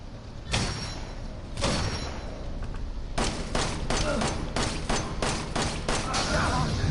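Gunfire aimed at Jack in Resident Evil 7: two loud, isolated shots, then a rapid run of about eight sharp reports in quick, slightly uneven succession, close and punchy.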